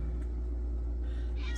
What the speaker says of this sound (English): my cat's making a bunch of noise.